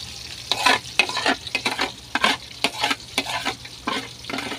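Pork pieces coated in egg and flour fry in hot oil, giving a steady crackling sizzle broken by repeated bursts of spattering and stirring scrapes, close and fairly loud with no talking.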